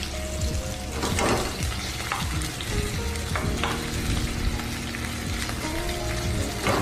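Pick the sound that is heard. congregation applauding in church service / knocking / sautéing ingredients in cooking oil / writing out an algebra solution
sautéing ingredients in cooking oil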